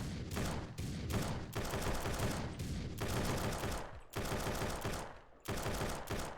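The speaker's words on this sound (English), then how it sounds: "Do you see the explosions?" Dense bursts of video game gunfire and explosions crackle loudly and nearly continuously, broken by a few short gaps, with no voices over the barrage.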